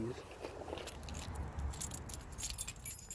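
Keys jangle steadily for a few seconds at close range, a bright metallic clatter over a low rumble in a garage where a postal Jeep is being worked on.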